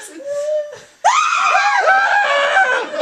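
A sudden, loud, delayed scream of fright bursts out after a brief vocal sound, with high-pitched shrieking held for a couple of seconds and then tailing off.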